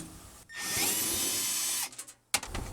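A power drill backs a screw out of a plastic cover on a refrigerator: a loud steady whine for over a second, then it slows and stops, followed by a couple of light clicks and handling knocks.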